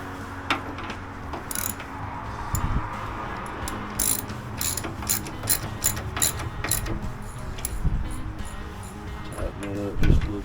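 Ratchet tightening a motorcycle rear shock bolt during a new shock install, a rapid series of close, sharp clicking pawl strokes in repeated bursts, with faint talk underneath.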